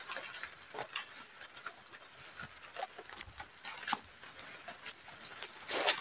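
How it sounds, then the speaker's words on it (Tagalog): Steady patter of rain falling outdoors, a soft continuous hiss with scattered drops ticking close by, a brief louder burst near the end, no voices. "Umuulan pa."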